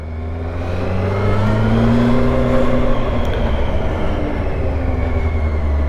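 A Yamaha FZ8 motorcycle engine pulls hard in first gear, its loud, steady drone climbing gradually in pitch while heard close from the rider's seat, with a constant rumble of wind and road.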